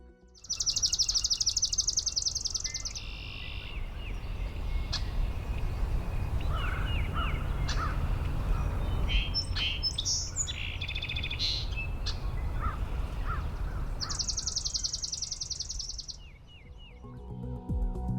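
Birdsong captured outdoors for Merlin Sound ID: bright, repeated high chirps and trills come in bursts at the start, middle and end, over a steady low background rumble, with no talking.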